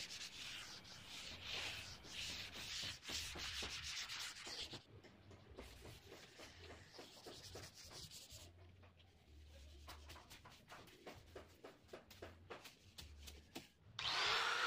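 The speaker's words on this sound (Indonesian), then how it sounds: "Kunci dari finishing adalah dari pengamplasan seperti ini" Wood is sanded by hand with sandpaper as part of preparing it for finishing, giving quick rhythmic rasping strokes up close, quiet overall with brief pauses and no talking.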